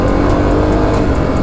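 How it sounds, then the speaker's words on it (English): A Kawasaki KLX250 dirt bike held at full throttle in third gear on a climb, its engine droning loud and steady at close range without letup. "I'm giving it throttle, it's still going, but it's just very slowly. Yeah, I'm giving it like full gas right now."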